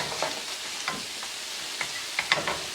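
Carrots and frozen peas being stirred in a hot pan over medium-high heat for ham fried rice, giving a soft continuous sizzle broken by a few scraping strokes of the spoon, close and fairly quiet.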